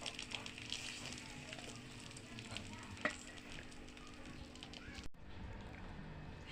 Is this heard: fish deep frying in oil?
yes